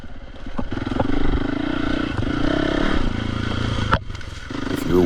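A dirt bike climbs single track trail at Hollister Hills, California, its engine buzzing and revving up close, with clattering and brush scraping against the rider.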